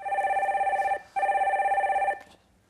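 A telephone rings for an incoming call during a Korean radio call-in broadcast. Two long, loud bursts of a steady electronic trill are separated by a short gap, with no talk.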